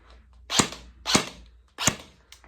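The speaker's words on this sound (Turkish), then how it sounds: "Atış yaparken de böyle atıyoruz." A Delta Armory AR15 RIS Charlie airsoft rifle fires three sharp, close shots about half a second apart, each a crisp snap with a short decay, followed by a fainter fourth pop.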